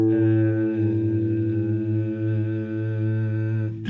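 Out-of-tune guitar string ringing in one sustained, slightly wavering tone that beats as it decays, close and alone with no voices.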